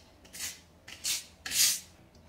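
A spatula spreads burnt-cement coating across wall tile in three separate scraping strokes, each a short rasping swipe, close and fairly quiet with no talking.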